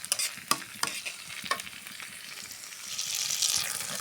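Cumin paste is stirred into a frying pan for a kochu (banana) flower dish, with several sharp spatula scrapes and clacks over a soft sizzle that swells louder toward the end, close by and without voices.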